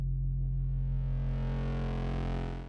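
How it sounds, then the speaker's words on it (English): A steady, buzzing distorted synth tone from an FL Studio Fruity Love Philter wave shaper, loud and sustained, fading slightly at the end. "The amplitude change happens instantly, causing distortion in the waveform."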